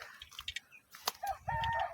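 Free-range country chickens feeding on grass at a poultry farm cluck and call softly, with a few short close calls and a clearer drawn-out cackle near the end.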